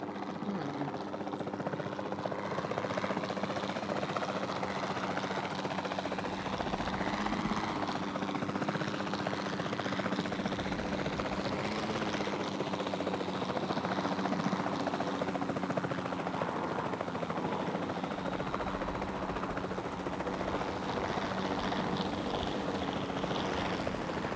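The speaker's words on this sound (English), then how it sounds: "Then the sensible thing is to take a capture team helicopter." A capture-team helicopter in the Jurassic World Evolution 2 video game gives a steady, continuous rotor and engine drone with no breaks, loud and even throughout, with occasional faint game sounds beneath.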